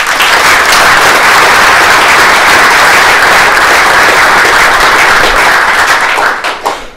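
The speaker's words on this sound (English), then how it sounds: "So we have a round of applause for all the presenters today." At an AngularJS Toronto meetup, the audience gives presenters a loud, steady round of applause, dense clapping that holds for about six seconds before thinning out and dying away.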